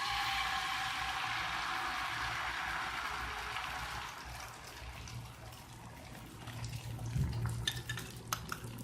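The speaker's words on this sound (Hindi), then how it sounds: "अब 4 अंडों में से जो बाकी मिक्सचर हमारे पास अंडों का बचेगा उसको मैं ऐसा फ्राई कर लूँगी" Leftover beaten egg mixture for a dhaba-style burger fries in a pan, first as a bright, steady sizzle that fades, then as scattered clinks and scrapes of a utensil against the pan, with no speech.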